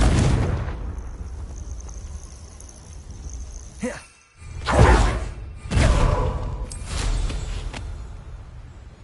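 A Confringo fire spell bursts in Hogwarts Legacy gameplay, a loud whooshing blast followed by rumbling impacts, with a second burst and further booms a few seconds later.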